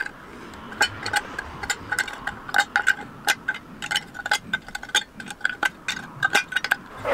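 Pliers bending the metal tabs of an old tin can inward, a series of sharp close metallic clicks and clinks in an irregular rhythm, with no talking.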